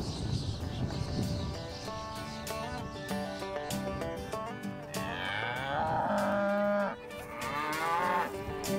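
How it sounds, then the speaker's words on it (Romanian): Dairy cows on a small farm in the village of Ratuș give long, drawn-out moos, loud and fairly close, with several calls overlapping. "Domnul Petru se poate mândri cu 5 vaci mulgătoare pe care le ține la propria fermă din satul Ratuș."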